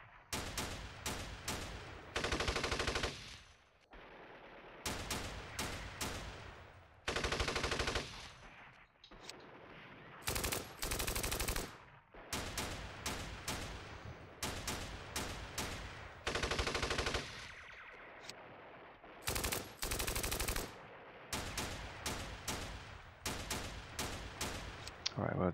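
Squads firing in the Steel Panthers (winSPMBT) war game during a random Iran-Iraq war 1980 battle: repeated loud bursts of machine-gun and rifle fire, some long and sustained, others short and sharp, with brief gaps between volleys.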